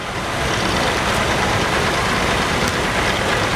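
A 1956 John Deere 520 tractor runs in a town parade, its engine a loud, steady broadband drone close by without voices.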